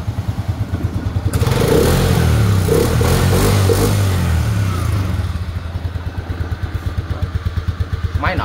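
An original Attila scooter engine idles close by, a steady low, smooth putter that swells slightly in the middle and runs evenly throughout with no rattles or whine.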